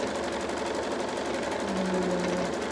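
A sewing machine stitches down the side of a quilt, running as a steady, continuous mechanical whir that holds at an even level throughout, with no voices over it.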